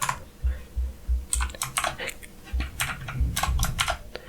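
Rapid clicking keystrokes on a computer keyboard, close and crisp, in quick bursts with short pauses, over a low steady hum.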